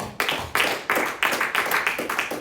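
A church congregation claps for Christ during a sermon, with several strong bursts of hand clapping in quick succession, fairly close and loud, with no voices over it.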